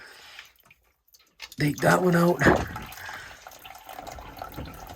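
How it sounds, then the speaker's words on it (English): Water trickles and drips steadily out of a boat hull through an opened drain plug during winterizing, a faint continuous splashing that runs under and after a man's nearby speech. "So I'm just gonna let this water drain out"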